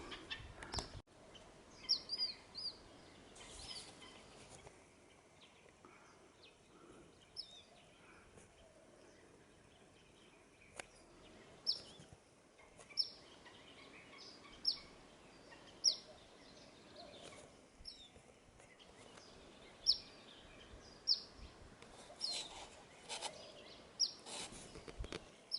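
Birds call in a quiet river canyon lined with mountains and sabino trees, giving sharp, scattered chirps at a distance against soft background ambience, with no talking.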